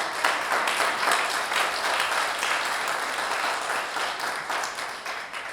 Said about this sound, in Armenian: դուր Աստծուն բարձր ծափ